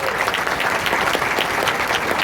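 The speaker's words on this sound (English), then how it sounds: "Give them one more round of applause, please." An audience at an awards gathering for haunted house attractions claps in a dense, steady round of applause that fills the room evenly from start to finish.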